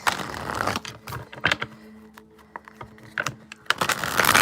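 Crisp bursts of tarot cards being shuffled, a few rapid riffles and taps separated by short pauses, close by with no talking.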